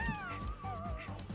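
Cartoonish dog sounds in the Astro Bot video game, several short yips and whimper-like cries with bright, sliding tones over game music, close and fairly loud.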